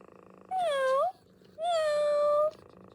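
An Elephant Robotics Metacat Version 2.0 robotic pet cat gives two electronic meows, a short one followed by a longer, drawn-out one, clear and close with a quiet pause between.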